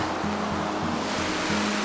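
Steady broadband wash of water flowing into a small outdoor pool, an even rushing roar with a low hum running throughout, no voices.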